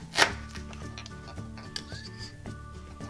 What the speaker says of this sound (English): I'll chop this up.